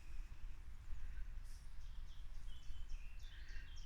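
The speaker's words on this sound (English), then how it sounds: "Let's just have a little listen to these birds" Birds chirping and calling outdoors among bluebells, small high tweets scattered through the clip over a steady low rumble of wind or distant noise, with no one talking.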